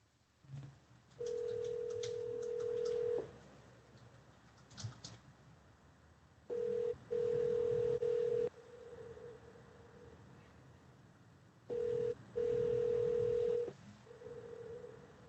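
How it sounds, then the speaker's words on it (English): An outgoing telephone call rings on the line during a court meeting room session, with long steady ringback tones repeating in pairs with silent gaps between them, clear and alone. "I'm calling it right now, Mr. Stoltz, so pick it up."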